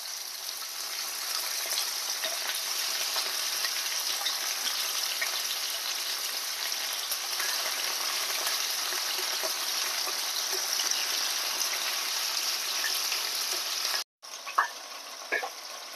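Chicken pieces fry in a heated pan. They give a steady, loud, close sizzle that holds unbroken until a brief cutout near the end, with faint crackles after it. No voices.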